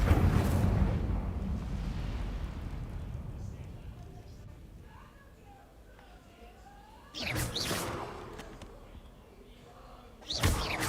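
An Incendio fire spell goes off in a Harry Potter video game, with a burst of roaring, rumbling whoosh that fades out, followed later by two sharp, bright impact bursts.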